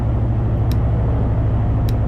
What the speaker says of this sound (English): I can still hear a monster truck or something?